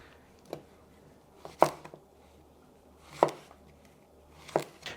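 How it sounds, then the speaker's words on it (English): A knife slices through zucchini on a cutting board, about four or five separate sharp chops at uneven intervals in a quiet kitchen. "zucchini is the same way as I said, just cut the tip of it"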